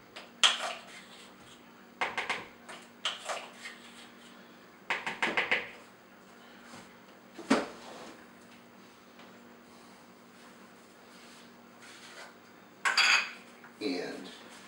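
A metal teaspoon measures out baking powder for biscuits, giving scattered light clinks and scrapes against a container and bowl, in short bursts separated by quiet stretches.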